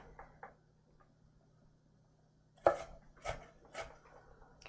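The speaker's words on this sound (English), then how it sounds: "let's just chop the rest of these guys up" A knife chops vegetables for risotto on a cutting board in a home kitchen: a few light taps, then a handful of sharper, louder chops spaced about half a second apart, close by over a faint steady hum.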